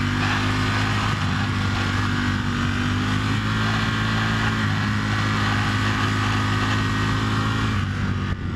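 A motorcycle tipping into a corner and powering through on the way out gives a loud, steady engine drone with a sustained, slightly rising hum from a close onboard position.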